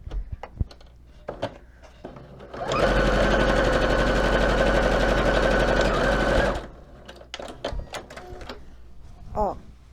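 A sewing machine stitching a polo shirt for a boy doll runs in one steady, loud burst of rapid whirring for about four seconds, with quiet handling noises and clicks before and after.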